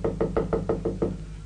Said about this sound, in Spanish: le golpea la puerta una de las hijas a la madre